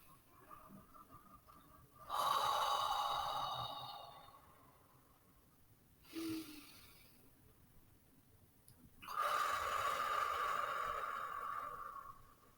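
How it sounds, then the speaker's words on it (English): Slow, close breaths drawn in through the nose and let out through the mouth, two long airy exhales separated by a short quiet inhale, alone in a quiet room. "inhaling for a count of 4 through the nose and exhaling for a count of 6 out the mouth"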